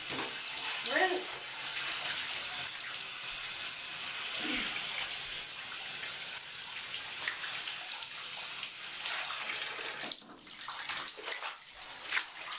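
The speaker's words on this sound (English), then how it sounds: "I'm just giving everything a quick rinse." Water runs steadily over a bathtub as it is rinsed during bathroom cleaning, a continuous close splashing hiss with faint voice traces underneath.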